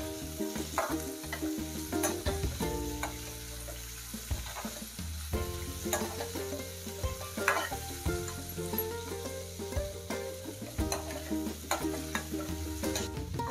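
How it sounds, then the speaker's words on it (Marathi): A spice mixture for Kolhapuri katwada fries over a low gas flame, giving a steady close sizzle with frequent clinks and scrapes of stirring throughout, no voices. "मंद गॅसवर आपल्याला हे फ्राय करायचं"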